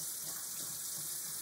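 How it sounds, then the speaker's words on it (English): Tap water runs steadily from a faucet into a sink for hand washing, a constant hissing splash close to the microphone, with no voices. "So, go ahead, turn the water on."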